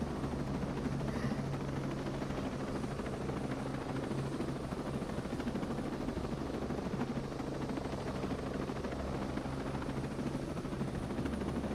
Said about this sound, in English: Enemy chopper below.